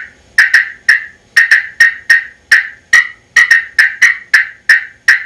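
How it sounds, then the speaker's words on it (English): A rapid series of sharp, high-pitched cutts on a friction turkey call, loud and close, fired in quick bursts of three or four. "I'll do 3 or 4 sharp cuts."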